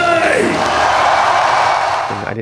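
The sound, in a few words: concert crowd applause and cheering for the band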